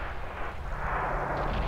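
A tank cannon fires in a World of Tanks-style armored combat video game, a deep muffled boom that rumbles and rolls on for over a second at moderate loudness.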